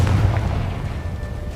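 A Confringo fire spell blasts in Hogwarts Legacy, a loud, rumbling explosion with a heavy low boom that rolls on steadily and fades slightly over a second and a half.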